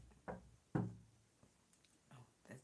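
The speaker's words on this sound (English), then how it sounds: "I'm sorry if you can hear the knock." A few quiet knocks on a door at home, two distinct raps followed by softer taps, faint and somewhat distant in a hushed room.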